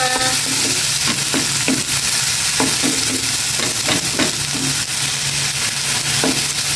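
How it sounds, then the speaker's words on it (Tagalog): Food sautés loudly in a pan with a constant crackling sizzle and a run of rhythmic spatula scrapes and taps throughout. "Gisa ko lang ito."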